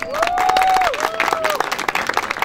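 Audience applause for theatre performers at an outdoor agricultural culture festival in a park, a broad wash of clapping with crowd noise and a sustained whistle-like tone, fading toward the end.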